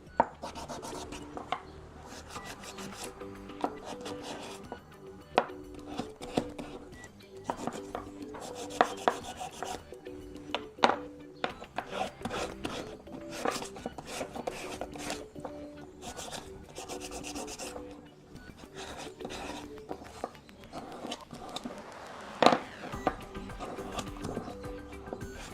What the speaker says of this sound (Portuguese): Eu vou dar uma lixada também.